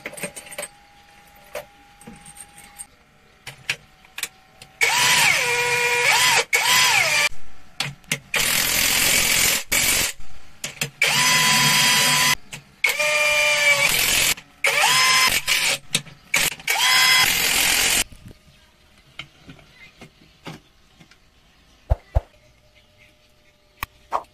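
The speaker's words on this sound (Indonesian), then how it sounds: "Kita lanjutkan ke pemasangan baut lock." Power tool driving lock bolts on a Yamaha 40 HP outboard motor, with several loud whirring bursts of a few seconds each, separated by short pauses and light metallic clinks, then quiet handling.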